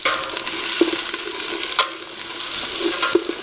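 Onions for a Caribbean hambone stew being stirred in a hot pot, a steady sizzle with scraping spoon strokes and a few soft knocks against the pot, close and continuous with no talking.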